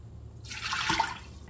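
About a cup and a half of water pours into an Instant Pot over a trivet, a short hissing splash that starts abruptly, holds for about a second, then fades.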